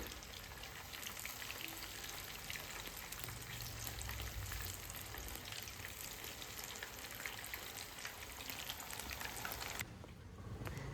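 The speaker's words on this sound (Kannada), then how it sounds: "ಇವಾಗ ಕಬಾಬನ್ನು ಇಲ್ಲಿ ಫ್ರೈ ಮಾಡ್ಕೋತಾ ಇದ್ದೀನಿ" Kebab frying in a pan gives a dense, even sizzle that holds steady for several seconds and then drops away abruptly just before the end.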